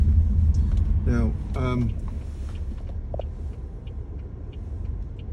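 A hybrid car's engine runs with a low, steady rumble, heard from inside the cabin while someone talks over it.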